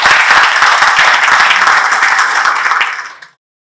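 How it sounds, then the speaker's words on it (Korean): Audience applause at a Korean National Assembly policy seminar on the navy, welcoming a presenter: a dense, steady wash of clapping from a full room that holds for about three seconds, then stops abruptly. "여러분 큰 박수로 환영해 주시면 고맙겠습니다"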